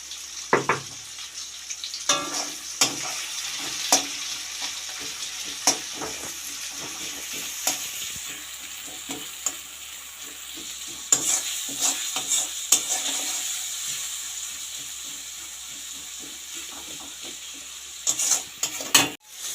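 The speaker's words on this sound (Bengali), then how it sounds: "পেঁয়াজের উপর নুনটা দিয়ে পেঁয়াজটাকে লাল লাল করে ভেজে নেব ভালো করে।" Sliced onions with salt sizzle steadily in a hot pan while a spatula stirs and scrapes in irregular clacks over nearly twenty seconds, with no voices.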